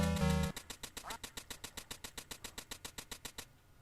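A cartoonish duck quacks rapidly in the VR game Duck Hunt VR, a steady run of about twenty evenly spaced quacks following a brief electronic tone, then stops.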